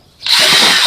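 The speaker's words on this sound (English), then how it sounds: "I'm just using an 1/8 inch drill bit here." A power drill with a 1/8 inch bit spins up abruptly after a moment of near silence, then holds a loud, steady high-pitched whine while boring air holes in a homemade worm farm container.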